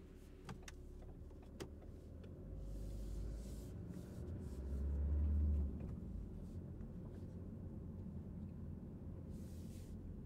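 A car moves off during a driving lesson at a crossroads, its engine and road noise a low, fairly quiet hum that swells slightly midway, heard from inside the cabin with no talk.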